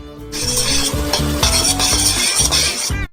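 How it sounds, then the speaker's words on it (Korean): A spoon scrapes and stirs thick, bubbling caramel candy mixture with white food colouring in a pot, with a rhythmic clatter and a steady sizzle, close up, no voices. "섞어요."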